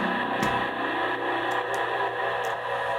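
A single soloed partial of the Roland D-50 synthesizer patch Digital Native Dance plays a bright, buzzy, sustained tone with a layered harmonic texture and a few soft percussive ticks.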